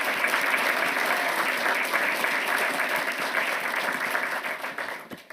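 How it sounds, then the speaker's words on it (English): An audience at a town council meeting applauds, a dense burst of clapping that holds steady for several seconds before tapering off. "give him a warm round of applause"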